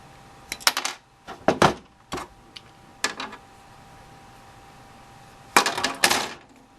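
Hobby side cutters, Tamiya Sharp and God Hand, snip plastic model kit parts: a few sharp, close clicks in small clusters, separated by quiet gaps, with a louder pair of snaps near the end.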